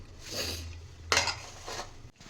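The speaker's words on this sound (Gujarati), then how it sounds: "હવે આપણે ઢાંકણ બંધ કરી દેવું પાંચેક મિનિટ" A metal lid clanks onto a pot of brinjal and potato curry over a low hum, followed by a short rattle and scrape of cookware.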